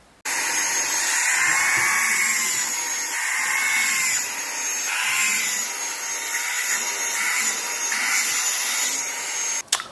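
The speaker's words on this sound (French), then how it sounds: "petit test réalisé de cet aspirateur" A small cordless handheld 2-in-1 vacuum and blower whines loudly and continuously nearby, its pitch wavering slightly as it moves, before cutting off with a click at the end.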